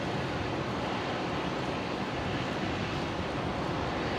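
A Qantas airliner arriving at Brisbane International Airport gives off a steady, loud, broadband jet engine roar that holds without a break for the whole stretch, with no voices over it.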